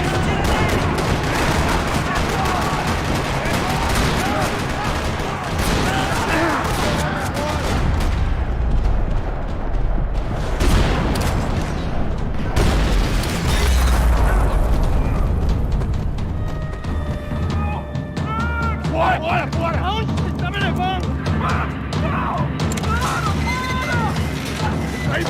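Loud, chaotic bursts of gunfire and booming explosions in a parking lot in the video game Max Payne 3 pile up densely, with voices and game sound effects mixed in and music emerging toward the end.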